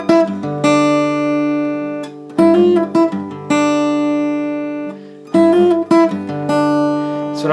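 Guitar playing a measure of a song, bright plucked notes and ringing chords in an even rhythm, with short pauses between phrases, played close and clear without any voice.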